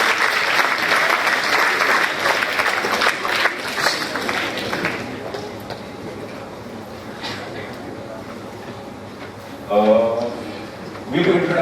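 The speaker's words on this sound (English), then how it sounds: "you give all 4 of them a round of applause as they come up" An audience applauds steadily as four volunteers come up at a 2014 event, the clapping broad and sustained at first and then thinning, with a brief burst of voices late on.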